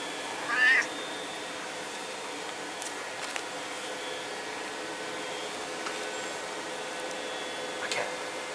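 A feral black cat gives a single short meow near the start, followed by a long, quiet stretch with only faint background noise.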